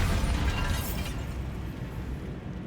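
A Bombarda explosion spell in Hogwarts Legacy, a loud, dense blast that opens with a heavy low rumble and a bright crackling burst, then dies away into a sustained rumbling wash.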